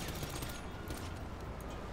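Steady crackle of rapid gunfire in GTA 5 runs for two seconds, a dense continuous fusillade at moderate level with no clear single shots standing out.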